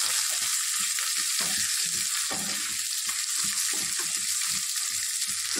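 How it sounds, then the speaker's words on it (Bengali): Capsicum sizzles in a hot pan while it is briefly fried for masala noodles. A constant bright hiss runs the whole time, broken by repeated stirring scrapes, with no talking. "ক্যাপসিকামটা খুব বেশি ভাজবো না, বেশি ভাজলে ভালো লাগে না"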